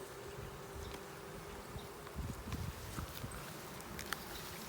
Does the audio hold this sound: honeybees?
yes